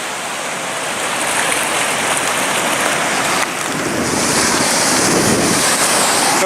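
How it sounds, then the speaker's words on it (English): Ocean surf crashing onto a rocky beach at Bandon, Oregon, a loud continuous wash of breaking waves mixed with gusty wind noise across the whole stretch, with no talk. "the waves could strike me pretty good"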